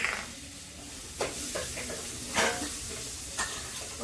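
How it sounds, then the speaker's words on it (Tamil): Onions sauté in a hot pan, a continuous close sizzle broken by several scraping strokes of a spoon stirring them at irregular intervals. "பொன்னிறமாக வெங்காயம் வதக்கி நல்லா வதக்குவோங்க"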